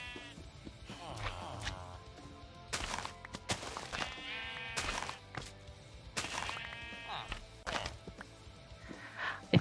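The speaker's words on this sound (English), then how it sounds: "because I want to take home funny colored sheep" Sheep bleating in Minecraft, a superflat world, with several wavering bleats spaced through the stretch and soft thuds and footsteps in between, moderately quiet and with no talk over them.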